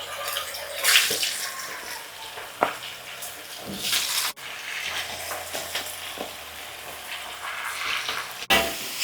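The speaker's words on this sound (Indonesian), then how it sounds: "sebelah sini kita mau goreng ayam" Chicken and fish sizzle and crackle in hot oil with a steady hiss, broken by a few clinks and stirring clatters.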